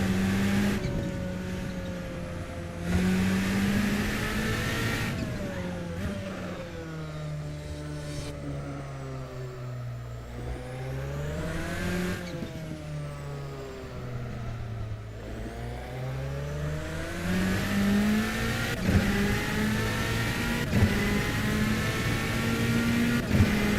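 Race car engine droning steadily around a track in a sim racing game at Circuit Paul Armagnac during a Le Mans series race, with pitch rising and falling through gear changes and corners, loud and continuous without talk.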